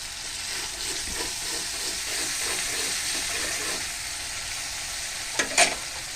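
Beef and lentil curry stirred and sautéed in a pan, a continuous sizzling fry with rhythmic scraping strokes and a brief clatter of the utensil near the end, no voices.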